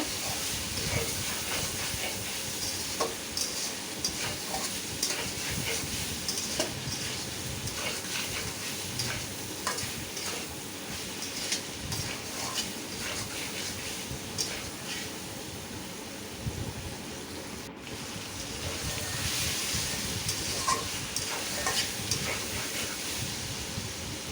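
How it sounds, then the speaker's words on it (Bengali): Shrimp and mixed vegetable curry sizzles and hisses steadily in a pan while being stirred, with faint scraping and clinks under the constant frying noise. "এখন নেড়ে চেড়ে দিব"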